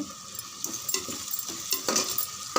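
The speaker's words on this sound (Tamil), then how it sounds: "இதுவும் சேர்த்து இன்னும் ஒரு 3 நிமிஷம் நல்லா வதங்கட்டும்" Vegetables sauté in a pan with a close, soft sizzle as a spatula stirs and scrapes in quick, irregular strokes.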